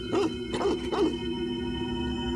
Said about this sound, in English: He just kept on barking and growling in the direction of the fireworks.